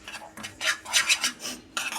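A spatula scrapes and stirs a pan nonstop in close, uneven strokes of rasping metal-on-pan scraping, with no voices.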